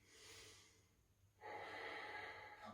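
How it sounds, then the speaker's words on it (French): Deep breaths are taken during a cool-down yoga stretch, starting with a soft, airy inhale and then a louder, longer breathy exhale close to the mic. No one speaks. "Encore une respiration."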